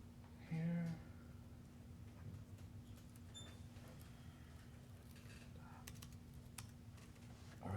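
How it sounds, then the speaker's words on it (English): Faint one-handed typing on a computer keyboard, with a few soft key clicks in a quiet room and a brief louder noise near the start. "typing with one hand"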